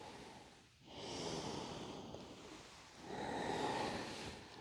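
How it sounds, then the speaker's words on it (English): Slow, audible breathing during a yoga pose for lower back relief: a long inhale, a brief pause, then another drawn-out breath, close and soft with an airy, nasal texture and no talking. "Breathe into your pose."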